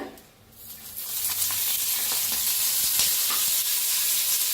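Garlic, peanuts and chillies roast in a little oil, giving a bright, steady sizzle that swells after a brief quieter moment and then holds constant.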